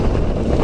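Rushing wind roars through a motorcycle helmet's open vents, two at the sides and two at the back, on a Maxim 600 scooter ride, a brief, loud, steady whooshing blast heard close up.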